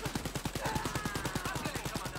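Rapid automatic gunfire from Wolfenstein Youngblood rattles off in a steady, evenly spaced stream of sharp shots, loud and continuous throughout.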